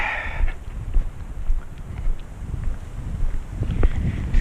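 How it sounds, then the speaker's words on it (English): Strong wind buffets the microphone at a trout fishery, a low rumbling roar with gusty surges, loud and close throughout with no voices. "this wind is a nightmare"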